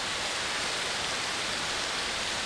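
Water pours steadily over a hand at a waterfall, a dense, unbroken rushing hiss close by with no other sounds.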